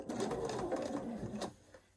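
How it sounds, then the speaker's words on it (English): A home sewing machine stitches two quilt pieces together in a short, close, continuous mechanical whirr with rapid needle chatter, stopping after about a second and a half. "I'm over at my sewing machine, and I'm going to sew together my first 2 pizza slices"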